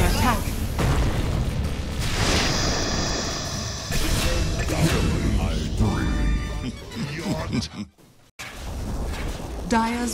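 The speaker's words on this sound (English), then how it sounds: "Dire's bottom tower has fallen." Booming explosions and impacts in a Dota 2 match as a tower is destroyed, dense layered blasts and game effects with voices mixed in.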